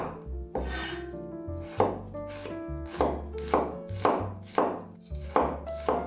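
A knife slices garlic cloves on a cutting board in a home kitchen, about eight crisp, evenly spaced chopping taps, close and clear over faint background music, no talk.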